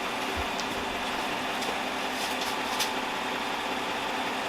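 A Chevrolet Silverado pickup idles roughly with a suspected failing mass airflow sensor, giving a steady, fairly loud mechanical drone with faint uneven pulses and a few light ticks over the top.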